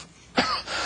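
A single short, rough cough bursts out after a brief quiet moment, followed by a raspy breathy tail.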